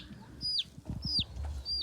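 A small sick chicken with swellings beside its eye gives a few short, high clucks over a low rumbling background, close by, with no talking.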